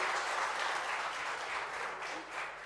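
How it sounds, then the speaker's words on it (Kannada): Audience at a music anniversary event applauding a five-year-old performer: a steady wash of clapping from a crowd, moderately distant and fairly faint, sustained throughout without talk. "ಒಂದ್ಸಲ ಜೋರಾದ ಚಪ್ಪಾಳೆ ಬರಬೇಕು ಪ್ಲೀಸ್"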